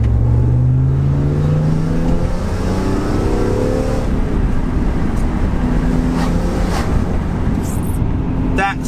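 A BMW E46 M3 coupe engine revs while driving, with a steady, loud mechanical drone and rising harmonic sweeps as it climbs through the revs. The sound is heard from inside the car, with no talk over it.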